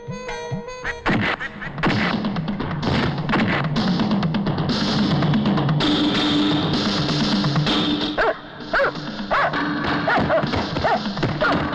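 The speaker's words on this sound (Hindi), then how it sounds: "Good doggy. कम कम कम कम।" A dog barks and whimpers in a film scene, its yips mixed with loud thwacks and crashing noises in a dense, continuous din.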